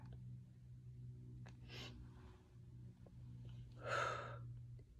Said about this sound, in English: That's the breathing.